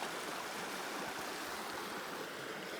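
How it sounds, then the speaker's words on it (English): Stream water rushing steadily at a hiking trail crossing, a constant broadband wash that stays close and even throughout. "I almost lost my shoe at this water crossing, but Phoebe saved the day."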